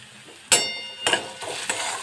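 Grated garlic, onion and green chili fry in a little oil in a pan, a soft sizzle punctuated by a few sharp clinks and scrapes of a spoon stirring against the metal.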